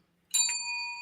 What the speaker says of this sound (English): There's the bell, so we know what that means.